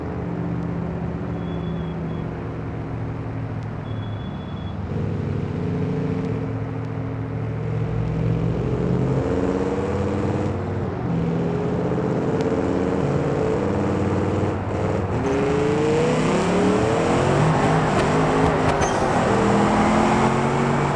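V8 engine of a 6x6 truck in BeamNG, a steady loud drone climbing through gear-like pitch steps as it accelerates, continuous with no talk.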